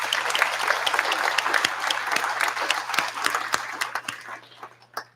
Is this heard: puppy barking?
no